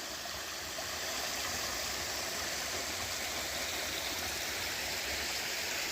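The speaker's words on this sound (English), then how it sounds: "What a beautiful little stream." A small forest stream on the Appalachian Trail flows steadily, a continuous broadband rush and babble of water with no pauses, moderately loud and close.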